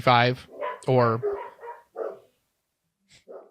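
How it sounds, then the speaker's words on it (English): Dogs bark loudly in two close, sharp bursts, followed by smaller yips, alongside someone speaking during a disc golf recap. "Sorry about the dogs."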